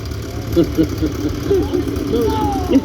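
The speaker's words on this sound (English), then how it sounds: "Field Marshal. Diesel Marshal, Series 1 I think." A Field Marshal Series 1 diesel tractor, right-hand drive, idles at a steam rally with a low, steady engine throb while people talk nearby over it.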